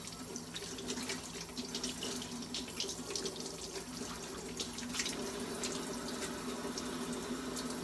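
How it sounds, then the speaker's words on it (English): Steady stream of water from a kitchen tap while hands are rinsed, a continuous close rushing flow with faint splashes and no talking. "Okay, rinse hands."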